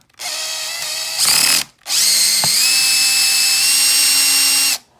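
A power drill backs screws out of a chair. It gives two loud, close, steady whirring runs split by a brief pause, with the pitch shifting slightly during the second run.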